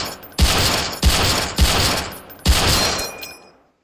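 A powerful manual firearm in the Roblox video game fires four loud, booming shots at roughly half-second to one-second intervals, each ringing out with a long tail before fading away.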